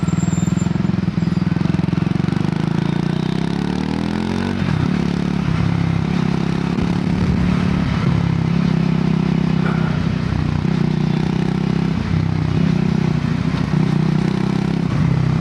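A Triumph Tracker 400 motorcycle is ridden with a steady, loud engine drone and throttle rising in pitch early on, then settling into an even rumble with road and wind noise throughout.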